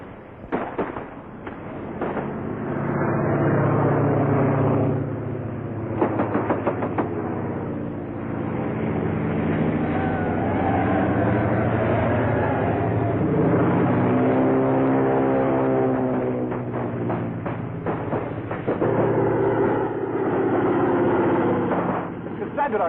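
A vintage propeller airplane from a 1938 aviation adventure film drones steadily overhead, its loud engine roar swelling and shifting in pitch as it passes, with sputtering bursts early on and no talk.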